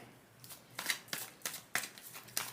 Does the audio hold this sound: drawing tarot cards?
yes